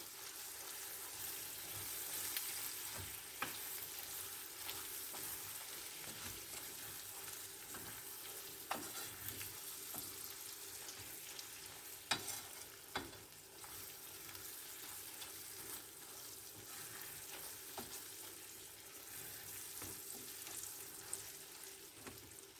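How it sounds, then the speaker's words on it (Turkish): A minced meat and potato dish with butter is stirred in a pan. Soft scrapes and clicks come at irregular intervals over a faint, continuous sizzle, fairly quiet throughout. "Güzelce bir karıştıracağım."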